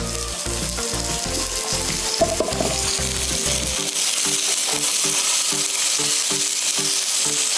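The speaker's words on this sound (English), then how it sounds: "we're hearing that lovely little sear going on as well" A fish fillet sears skin side down in a hot pan with a loud, steady, close sizzle. A ticking mechanical rhythm runs under it throughout, with no talking.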